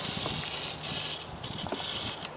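Steady hissing spray of aerosol penetrating oil on Jeep transmission lines runs almost continuously for a couple of seconds, close up, with brief dips and faint background clatter.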